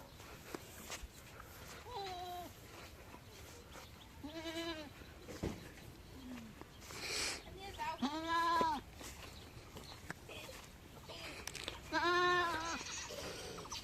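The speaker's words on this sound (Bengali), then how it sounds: "এই যে আরো অনেকে ছাগল আছে, যেমন এই যে পাশাপাশি আরেকটা ছাগল আছে।" Several goats bleat in a rural home setting, with repeated wavering calls at intervals, some close and loud, others softer, over background noise and occasional footsteps.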